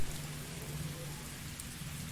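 Steady heavy rain in the video game Fallstreak, a dense even hiss of falling drops that fills the whole stretch without pause.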